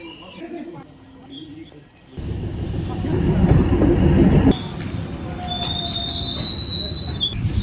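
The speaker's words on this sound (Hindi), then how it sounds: "हमारी ट्रेन चल पड़ी है" A passenger train in Rajasthan pulls out of a station, its wheels squealing in long high whines over a loud rolling rumble that swells and then settles, with people talking in the background.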